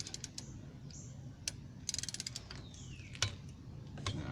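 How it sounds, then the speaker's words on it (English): A torque wrench set to 25 pounds clicks as wheel bolts are tightened in a star pattern during a brake replacement on a Somerset E3. A few sharp, close clicks and ratchet ticks sound over a low background hum. "Alright, that's first click."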